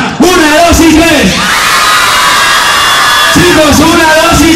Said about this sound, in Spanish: A la de tres, un grito fuerte de chicas, solo chicas, de verdad.